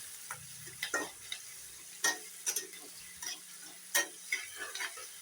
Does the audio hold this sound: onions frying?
yes